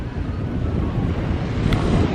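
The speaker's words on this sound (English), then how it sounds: "A bit windy today." Steady wind rushes and rumbles against the microphone on the Gulf Coast at Biloxi, Mississippi, with a low wash of surf underneath.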